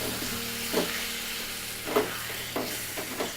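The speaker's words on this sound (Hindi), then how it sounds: "इसमें पालक का पेस्ट ऐड कर देते हैं और इसे अच्छे से मिक्स कर देते हैं" Spinach paste for potato-spinach curry being stirred in a pan over a gentle sizzle, with a few soft scraping strokes at uneven intervals.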